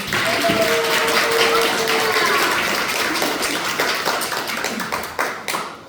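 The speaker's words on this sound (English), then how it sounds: "So let's give her a round of applause." A party crowd celebrating a daughter's master's degree applauds with steady, dense clapping that tapers toward the end, fairly close and loud.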